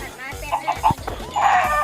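A chicken in the Minecraft PE video game gives a series of short, close clucks in quick succession, with a voice mixed in.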